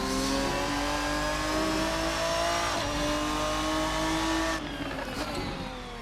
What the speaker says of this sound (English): That is unmistakably a V12.